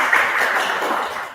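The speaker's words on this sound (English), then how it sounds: "Let's give our candidate a round of applause" A crowd claps for a candidate at a freshman CNAHS council speakout event: dense, steady applause from start to finish, fading slightly at the very end.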